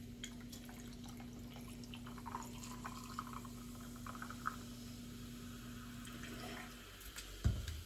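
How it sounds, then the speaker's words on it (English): Plain sparkling water poured over a blueberry sparkler drink: a quiet, steady fizzing trickle with faint drips and bubbling, ending in a brief clunk. "Then I am to top it with sparkling or seltzer water, just a plain, and I have a plain sparkling water."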